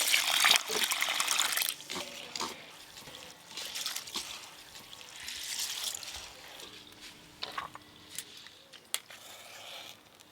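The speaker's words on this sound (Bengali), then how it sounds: "জল" Water runs from a tap in a home kitchen during family biryani cooking, a steady gushing stream with some splashing that shifts in level, heard fairly close with no talking over it.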